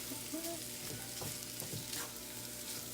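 Food frying in a pan, a steady close sizzle and crackle with a few light stirring scrapes, no talking.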